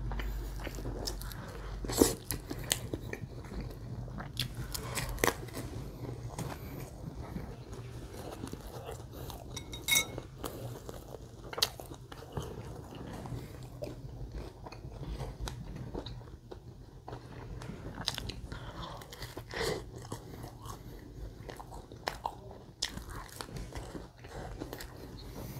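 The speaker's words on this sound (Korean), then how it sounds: "이거 쿠키, 초코 쿠키 한입 베어물었어 이미" Close, crisp bites into a chocolate cookie from a bakery, followed by repeated crunchy chewing and light clinks of cutlery, with no talking.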